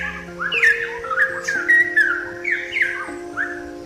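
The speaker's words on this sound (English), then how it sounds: "The distinctive sound of the straw-headed bulbuls." A straw-headed bulbul in Singapore sings a rich series of bright, warbling whistled phrases, loud and repeated at a lively pace over a steady low background tone.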